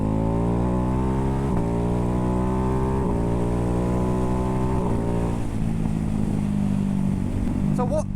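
A Ducati Hypermotard 698 Mono single-cylinder motorcycle on the move, its loud, close engine drone climbing steadily in pitch through several gear changes before settling into a lower, rougher tone.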